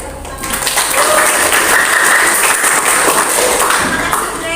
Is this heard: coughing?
no